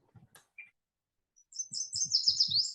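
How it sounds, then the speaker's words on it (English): Several birds chirp and tweet in a winter garden, a few sparse calls at first, then a brisk run of high, overlapping twitters with soft low thumps beneath, fairly close and clear with no talk. "Birds are searching for insects even in the winter."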